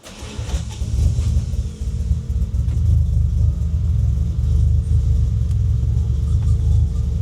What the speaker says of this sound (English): Always find an excuse to start the Supra up.